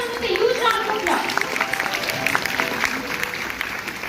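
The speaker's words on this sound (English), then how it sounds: "Please welcome with a huge round of applause." Audience applause at a physiotherapy medical conference in India, a dense spread of clapping mixed with crowd chatter and children's voices running steadily at moderate loudness for a few seconds.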